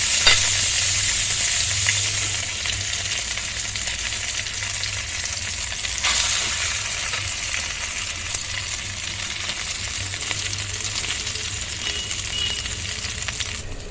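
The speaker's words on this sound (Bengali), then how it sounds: "এবার তেলের মধ্যে মাছের পুরগুলো ছেড়ে দেবো" Rohu fish filling dropped into hot oil sizzles and fries steadily, a loud, continuous crackling hiss that holds at even strength throughout with no voices.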